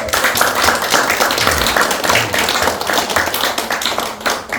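An audience claps for the elders at a district elders' association founding assembly, a steady run of close, crisp handclaps with a slightly uneven rhythm and no speech over it.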